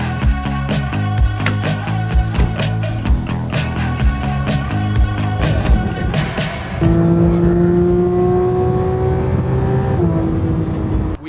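A brand new Porsche GT3 RS pulling out onto a private drift pad, its engine loud and close, revving through rising gear pulls with a sustained high-pitched tone in the later stretch.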